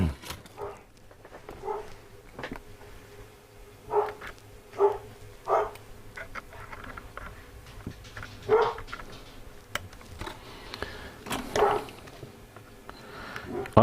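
A dog barks repeatedly in the background indoors, spaced single barks and short yips scattered over about fourteen seconds amid faint handling noise.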